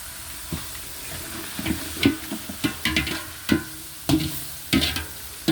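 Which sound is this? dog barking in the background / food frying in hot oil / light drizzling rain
food frying in hot oil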